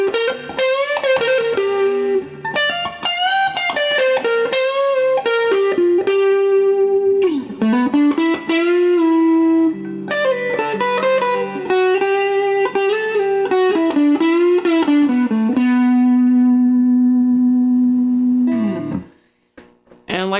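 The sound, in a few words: electric guitar through solid state amp with distortion and reverb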